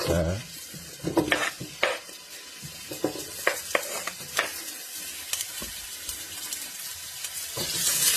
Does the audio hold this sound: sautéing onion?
yes